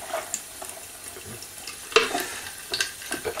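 Water runs and splashes as a small plastic key tray from an NCR 250 cash register is rinsed at a sink, with irregular sloshing and a few sharper clattering bursts close by.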